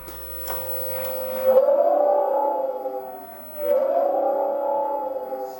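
An Ola S1 Pro electric scooter's synthetic, siren-like mode sound swells and glides up and down in two long sweeps, starting after a couple of faint clicks, moderately loud and alone.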